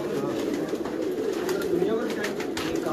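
Banded pigeons coo in a steady low murmur, a dense flock close by, with a voice and other sounds mixed through it.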